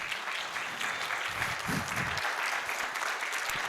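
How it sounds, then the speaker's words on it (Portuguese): Steady applause from an audience fills the room, a continuous dense clatter of many hands clapping at even loudness. "Uma salva de palmas."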